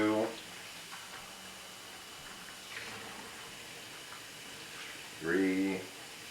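Water pours into a pot of uncooked rice in a steady, soft splash, with a person talking briefly at the start and again near the end.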